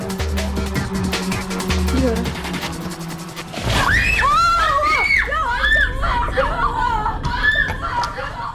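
A group of people in an abandoned haunted house, shrieking and screaming in fear amid a busy, noisy start. Several overlapping high screams, some close to laughter, follow, with voices mixed in.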